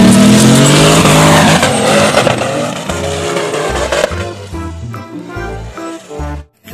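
A monster truck drives in the video game Jurassic World Evolution 2: loud, continuous engine roar with revving and tire squeal, layered over busy game sound and music, fading near the end.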